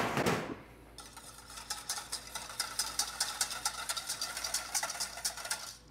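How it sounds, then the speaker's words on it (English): A whisk beats chia seed pudding mixture in a bowl, producing a fast, steady run of rhythmic metallic ticks and scrapes that starts after a brief thud and continues evenly, close and fairly quiet. "And I'm going to grab a whisk."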